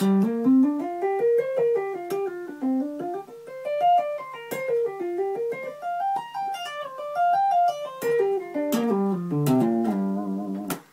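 A slow, clean electric guitar line of single notes climbing and falling in wide leaps, each note ringing clearly, played alone without any talking.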